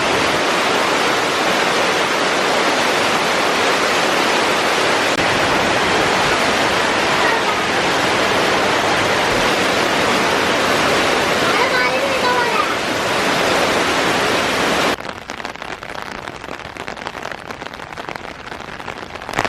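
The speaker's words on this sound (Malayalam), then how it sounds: "ഇവിടെ പാടത്തൊക്കെ വെള്ളത്തിൽ ചെറിയ രീതിയിൽ ഒഴുക്ക് വന്നിട്ടുണ്ട്" Rainwater flows steadily through a flooded paddy field after a morning of heavy rain, a loud, continuous rushing wash that drops noticeably in level for the last few seconds.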